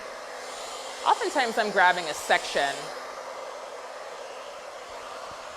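A hair dryer fitted with a diffuser attachment runs as a steady, even hiss through the whole stretch, while someone talks briefly over it during a curl-cutting demonstration.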